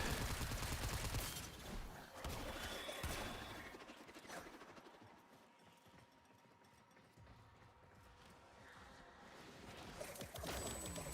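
Gunfire from the Warframe video game crackles in rapid bursts at low volume, loudest at the start and end, with a quieter mechanical lull in between.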